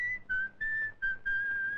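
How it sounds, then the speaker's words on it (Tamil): A person whistles a steady, high, slightly wavering tune in a Tamil drama scene, in short sustained phrases with brief breaks, alone and fairly clear at moderate volume. "நீ விசில் அடிக்கிற அளவுக்கு இங்க எந்த சீனும் நடந்துடல"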